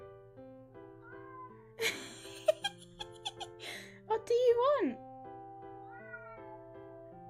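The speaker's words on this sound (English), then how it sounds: "my cat is meowing the entire time" A cat meows repeatedly in a quiet room, several rising and falling cries over a low steady hum, while a person speaks to it in between.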